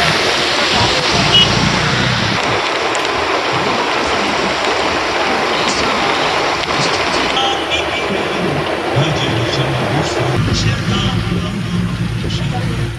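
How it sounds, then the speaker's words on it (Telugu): Heavy rain pouring down across Hyderabad during a thunderstorm, a dense, loud, continuous roar of falling water with some traffic rumble mixed in, steady throughout with no breaks. "హైదరాబాద్ లో పలు ప్రాంతాల్లో భారీ వర్షం కురుస్తోంది"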